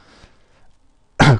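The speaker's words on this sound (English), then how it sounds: "Cough" A single short, sharp cough, close and fairly loud, after a moment of near silence with faint murmuring.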